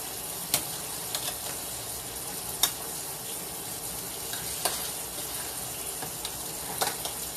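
Mashed potatoes being stirred with milk in a bowl, a soft continuous wet scraping texture broken by occasional sharp clicks of the utensil against the bowl.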